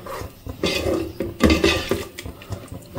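Fenugreek dal being stirred in a pot, with soft scraping and squishing from the spoon and a few light clinks against the metal, fairly close and uneven in rhythm, with no talk.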